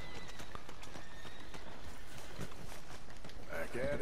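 A horse in Red Dead Redemption 2 clip-clopping at a quick pace with a brief whinny near the end, steady hoofbeats set against continuous game ambience.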